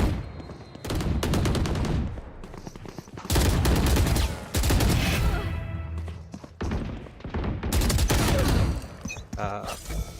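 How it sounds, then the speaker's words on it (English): Rapid gunfire bursts from the tactical shooter Valorant during a G2 vs Furia / Leviathan vs MIBR esports match, loud repeated volleys with thumps and short pauses between them. "I'm actually whiffing on everyone right now. Not a bad shot on Phoenix though."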